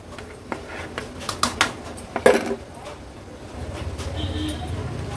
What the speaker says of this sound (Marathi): हे तांदूळ आपण ह्याच्यामध्ये ॲड करून घेऊया